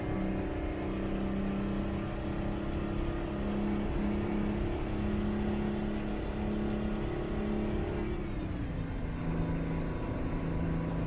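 An old Mack truck hauling grain in American Truck Simulator, its diesel engine droning steadily at constant revs, then dropping in pitch as it shifts into the next gear, loud and close throughout.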